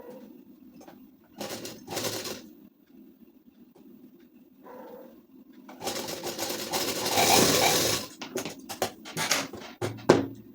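A sewing machine stitches a ladies suit in short runs: a faint hum underneath, brief bursts around two seconds, then a longer, louder stretch of stitching near the end, with scattered clicks.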